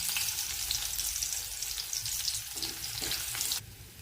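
Chopped garlic frying in hot oil gives a loud, close, crackling sizzle that runs steadily and drops off slightly near the end, with no voices.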